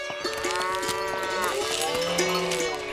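A cartoon buffalo moos in long, steady, tonal calls at a dairy stable, loud and continuous over a busy background with bell-like tones.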